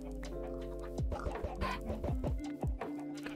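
Chickens cluck in the Minecraft video game, several short clucks and squawks over a steady low background hum, with no talking.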